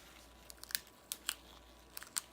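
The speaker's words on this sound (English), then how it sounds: "So I'm going to cut it with the small little scissors" Small scissors snip through tape on a toenail design in a series of faint, crisp clicks, a few scattered cuts close by in a quiet room.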